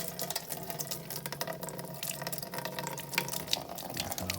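Miller High Life beer poured onto smoking ribs, a continuous trickling, splashing stream with light irregular splatters, close and moderately quiet, with no voices.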